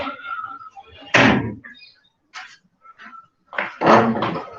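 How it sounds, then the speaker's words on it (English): An indoor door swung shut during a lecture pause, with a loud thump followed by scattered handling noises and a second firm knock, close to the listener with no talk over it. "I'm going to close this door."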